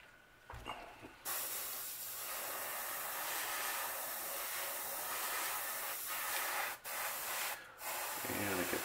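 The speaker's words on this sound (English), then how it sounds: "I like to just spray it down the back" Spray paint hisses steadily at close range while a color pattern is laid down, a continuous airy spray with a few brief pauses, soft and alone.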